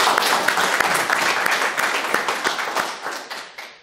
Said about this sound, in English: I think we should do a big round of applause.